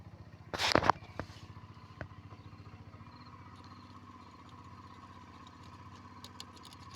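Restored Honda Dio moped engine fires up with a loud burst of cranking, then settles into a steady, fast two-stroke idle that putters evenly and close by.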